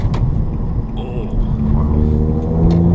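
A Nissan 350Z Nismo drives on the road, its engine humming steadily with a low rumble and rising slightly toward the end, heard from inside the car.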